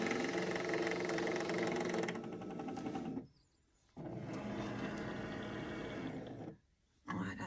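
An engraving machine for plexiglass starts up and runs with a loud, steady mechanical whir that cuts off briefly twice, leaving short near-silent gaps before it resumes.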